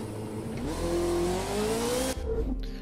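A Formula One car in The Crew 2 roars close and loud, its engine pitch climbing steadily through the gears before cutting off abruptly near the end, with no voices.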